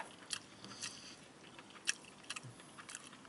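Boxed pork spaghetti from 7-Eleven chewed close to the mic, soft wet chewing with a handful of sharper clicks and crunches spaced unevenly, quiet and with no voices.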